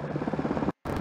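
Helicopter rotors thump rapidly and steadily in the Tomb Raider game House of Ashes, close and fairly loud, with a brief dropout to silence near the end.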